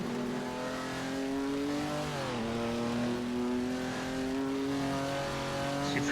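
A Ferrari 250 GTO racing engine in a VR driving game, powering up the Goodwood Festival of Speed hill climb, holds a loud, steady, buzzing note that rises and dips briefly as it accelerates, with no talking.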